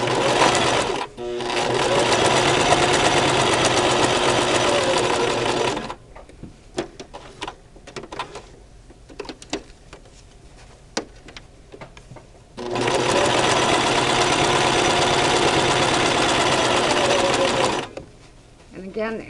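Brother LX3014 sewing machine stitching through six layers of fabric on a face mask seam, a loud close steady whir in two long runs with quieter clicks and handling sounds between them.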